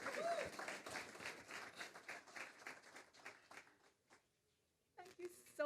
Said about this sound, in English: Please give a warm welcome and round of applause to Senator the Honorable Kamina Johnson-Smit